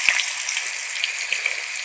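Fish frying in hot oil gives a steady, dense sizzle that holds loud and even throughout, with a single sharp crackle near the start.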